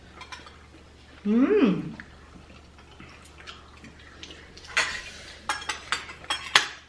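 A spoon scrapes and clinks against a pot while beef bone marrow is scooped from a beef stew, with a short burst of scraping early on and then a run of sharp clinks and taps.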